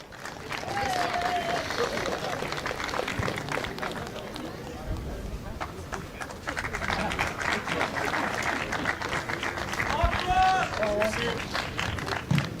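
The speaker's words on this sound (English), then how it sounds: "And a round of applause for his very game opponent from Uganda in his pro debut, Yusuf Kizito." Sustained crowd applause and cheering fill a boxing match arena, steady and loud throughout, with an announcer's voice heard over it.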